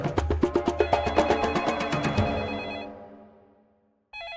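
A telephone bell rings in rapid metallic bursts, loud and close, then rings out and fades into near silence before a short new sound starts at the end.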